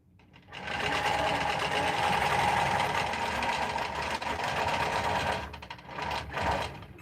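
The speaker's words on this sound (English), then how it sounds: "I stitch along each side before I start quilting on the inside. And I just do a basting stitch." Longarm quilting machine sewing a basting stitch, a steady close mechanical whir that runs for several seconds before slowing and stopping.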